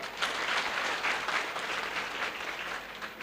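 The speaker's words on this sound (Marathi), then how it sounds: "यानंतर फोटोग्राफर साठी टाळ्या वाजवा." An audience at a Marathi student felicitation ceremony claps for the photographer. The applause is dense and sustained, rising and falling slightly over a few seconds, with no voices over it.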